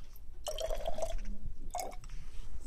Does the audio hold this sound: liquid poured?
yes